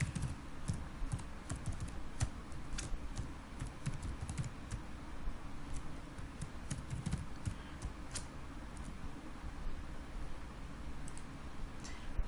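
Python code being typed on a computer keyboard, a steady run of quiet, close key clicks for about twelve seconds over a low background hum, with no talking.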